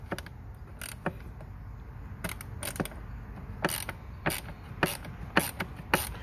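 Screws being unscrewed from the engine air filter housing of a Mercedes-Benz W205 C-Class sedan, a series of faint, sparse ratcheting clicks at irregular intervals over a low background hum.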